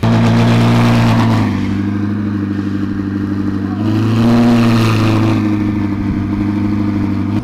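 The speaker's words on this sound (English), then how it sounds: "I'm going to try and see if I can capture a couple of the drive-bys of the cars leaving the pits" Ferrari cars pull out of the pits with a steady, loud engine drone whose pitch swells and eases as they pass close by, continuous throughout.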